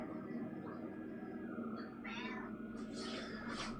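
A pet cat meows repeatedly for attention, the calls rising in a loose series of several close, fairly loud cries over a steady background hum.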